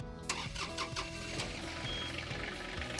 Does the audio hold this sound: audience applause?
no